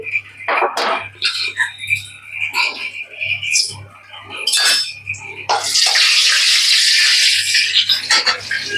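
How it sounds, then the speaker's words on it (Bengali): Onions drop into hot oil and ghee in a pan for chicken kranti: a voice talks over utensil clatter, then a loud, sustained sizzle of frying bursts up near the end. "প্রথমেই আমি পেঁয়াজগুলোতে ছেড়ে দিচ্ছি দিয়ে এটাকে হালকা ব্রাউন করে ভেজে নেব"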